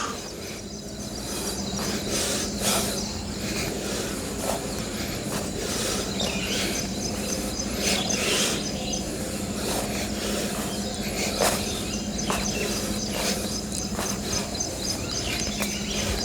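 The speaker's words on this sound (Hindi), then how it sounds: "सुबह के लगभग 5:40 बजे हैं और चिड़ियों की जो आवाज़ें हैं शायद आपको भी आ रही होंगी।" Birds chirp and tweet steadily in the early morning around 5:40, a dense outdoor chorus of small calls with an insect-like buzz and a low steady hum underneath, no talking.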